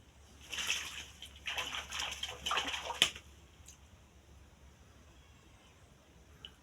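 A pigeon bathes in a basin of water, faint close splashes and flutters coming in bursts for about three seconds before fading to quiet drips and stillness.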